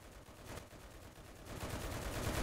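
Sustained M1919A6 machine gun fire in the WWII shooter Enlisted forms a dense, fairly faint rattle that grows slightly louder toward the end, with no voices.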